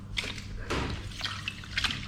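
A motorbike air filter is rinsed and squeezed in cleaning liquid, giving faint, close sloshing, dripping and wet squelching in a few soft bursts.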